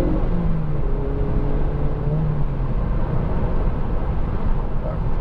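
A Mazda MX-5 2.0 Sport Tech Roadster cruising on a straight road, its engine holding a steady, continuous drone under broadband road and wind noise, with slow pitch shifts through the gears and no talk heard.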